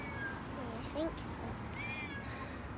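A cat meows once, briefly, in a cat cafe, with a second faint mew later, heard through steady room noise and nearby talk.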